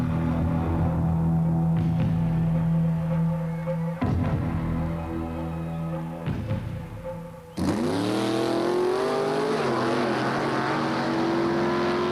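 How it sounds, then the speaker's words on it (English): Drag-strip race cars at Carlsbad Raceway roar loudly and continuously, with engines droning at steady pitch before one car launches into a rising, accelerating whine near the end. "The Carlsbad Raceway plays host to a number of racing events."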